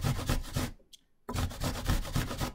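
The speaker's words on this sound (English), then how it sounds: "So holding your grater steadily and just keep grating" Cabbage rubbed against a hand grater in steady rhythmic strokes for coleslaw, close and scratchy, with a brief pause midway before the grating resumes.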